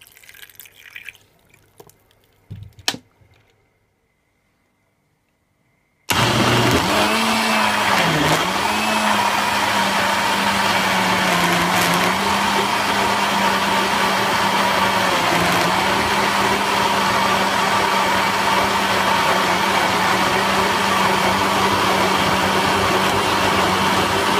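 After a few seconds of faint clatter and a brief silence, a blender kicks on loudly and runs steadily at high speed without stopping, blending pineapple and carrot with water.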